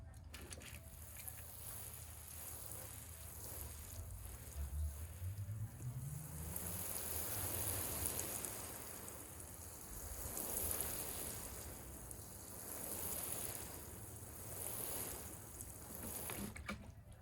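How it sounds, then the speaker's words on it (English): Freshly sown vegetable seeds in a front-yard spring veggie patch are watered in, a steady broad splashing and hissing of water running continuously at close range, swelling and easing in waves, with no talk. "All right, now we just give them a watering in."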